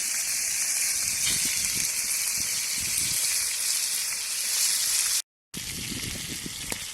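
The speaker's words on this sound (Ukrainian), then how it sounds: "Рибка жариться." Pike fish frying in a pan at an outdoor picnic, giving a continuous close hiss and sizzle with a faint low rumble, broken by a brief cut to silence before the sizzle resumes.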